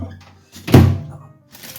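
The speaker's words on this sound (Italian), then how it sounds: "La vado a mettere in microonde" A microwave door shuts with a single firm thunk while ricotta and salmon ravioli filling is being prepared in a home kitchen, close and fairly loud, with faint kitchen noise around it.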